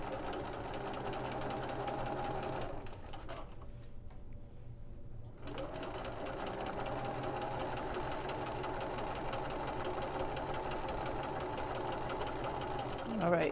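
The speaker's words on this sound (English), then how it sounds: "I'm going to sew up to it and back stitch." A sewing machine stitches a quilted jacket in steady, close runs, with a brief pause near the middle before the motor whirs up again and keeps going until the end.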